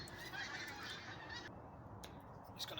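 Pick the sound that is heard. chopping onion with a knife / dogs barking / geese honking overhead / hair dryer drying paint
geese honking overhead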